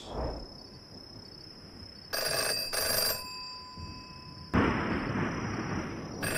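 Phone box ringing in the VR game Virtual Virtual Reality: two bursts of electronic bell-like ringing over a quiet tonal ambience, then a louder broad burst near the end.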